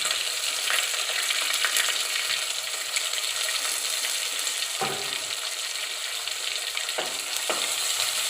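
Ginger, garlic and green chilli with curry leaves sautéing in a hot pan for a bitter gourd curry, a steady continuous sizzle with a few stirring scrapes and light clinks, close and alone.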